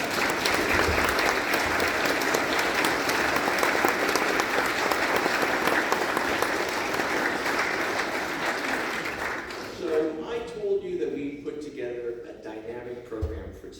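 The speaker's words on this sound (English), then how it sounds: "Let's give another round of applause." Dense lecture-hall applause from a large audience runs steadily for most of the stretch, then thins out as a speaker's voice takes over near the end.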